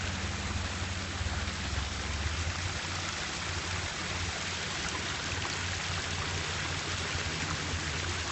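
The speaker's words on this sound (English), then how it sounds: "So I have a little fish fountain going on there." A small fish-shaped fountain splashing steadily in a water feature showroom, a continuous close trickling and pattering of falling water with no talk.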